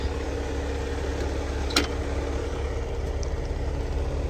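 A car engine idles steadily with a low, even rumble, close by, with a brief faint click partway through.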